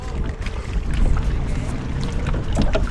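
Heavy wind rushes and buffets the microphone over choppy water while bass fishing, a loud continuous roar that rises and falls, with no voices.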